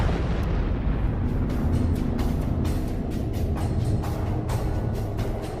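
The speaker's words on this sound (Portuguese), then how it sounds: "o material remanescente iria evaporar em uma explosão colossal e faria bang!" A colossal explosion sound effect: a sustained, loud rumbling roar with repeated bursting cracks layered throughout, dense and continuous with no voices.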